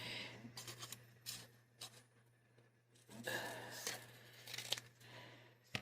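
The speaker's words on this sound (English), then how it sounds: "And then I'll come back with my small scissors here" Small scissors snipping close around paper shapes for a journal, a series of quiet, separate cuts and rustles at close range with pauses between them.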